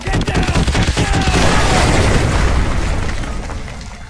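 Artillery strike in the Call of Duty Modern Warfare video game, a dense barrage of booming explosions and bursting crackle rolling together loudly before tapering off.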